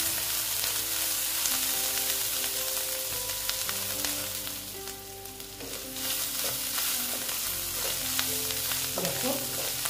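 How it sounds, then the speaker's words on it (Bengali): Onion, ginger and garlic fry in a pan, giving a steady close sizzle and crackle that runs the full ten seconds, with faint sustained tones behind it. "পেঁয়াজ আর রসুন, সরি, আদা আর রসুন দিয়ে এবার একটু ভালো মতন ভেজে নেব।"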